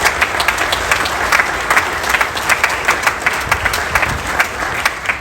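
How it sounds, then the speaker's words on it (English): Audience applause at a groundbreaking ceremony for a G League arena in Noblesville, a dense, even wash of many hands clapping, moderately loud and continuous without talk. "Give them a round of applause."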